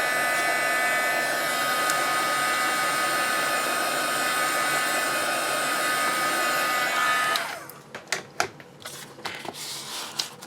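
A heat tool blows steadily on lightly misted paper, a loud continuous whooshing whir that runs for several seconds and then cuts off, leaving scattered clicks and soft handling noises.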